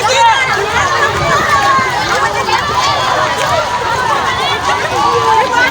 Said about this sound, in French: Une très foule immense.